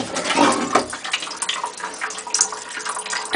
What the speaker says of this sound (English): There, the water coming out through the small nozzle.